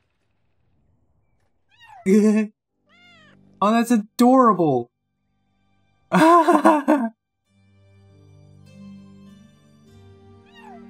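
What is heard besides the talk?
cat meowing in the video game Children of Morta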